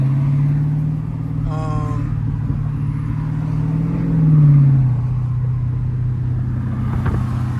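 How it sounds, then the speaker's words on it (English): A Chrysler 300 car rumbles steadily from inside the cabin while being driven, its engine note swelling briefly midway, with a person talking over it. "I'm driving the Chrysler home."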